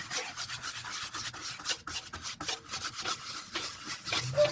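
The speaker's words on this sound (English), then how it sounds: "Scrub it here." Super Clean cleaner being scrubbed onto a tire, a steady close rasping brush rub with irregular strokes, no voices.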